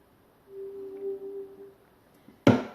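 A Samsung QLED QE50Q67T television being repaired for a restart fault starts up: a soft electronic tone hums for about a second, then after a pause a sharp, loud click or burst sounds abruptly at the end.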